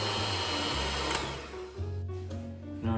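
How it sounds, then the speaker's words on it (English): A hand mixer beats a glaze for eclairs, a steady close motor whine that shifts pitch as the beaters move, running continuously throughout with no talking. "To make sure my glaze is extra smooth, I'm going to use the hand mixer"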